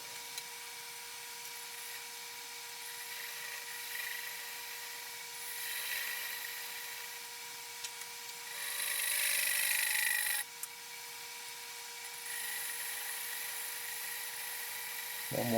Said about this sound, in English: Here I just chisel off the nub.